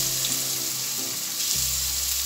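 Celery, carrots and onion frying in olive oil give a steady, close sizzle with no voices, and the tone deepens about two-thirds of the way through.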